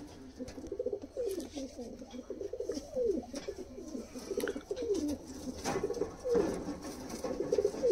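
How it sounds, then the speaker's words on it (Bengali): A pair of patta pigeons coos close by in repeated soft throaty rolls, with faint chirps of other birds and a person talking at times in the background. "এই হচ্ছে মাদা পায়রাটা, পাট্টা পায়রা"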